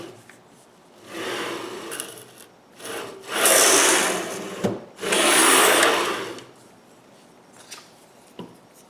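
Wooden drawer divider for a bowfront jewelry box being slid into a tight saw kerf: close, loud scraping wood-on-wood friction in several long pushes, separated by brief knocks and quieter pauses.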